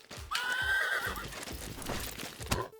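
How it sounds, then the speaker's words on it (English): A horse in a roguelike video game gives a sharp, loud whinny, then hooves clip-clop along as it gallops, all as a standalone effect with no voices. "We also added a sound effect for the horse, to give a warning to the player to watch out."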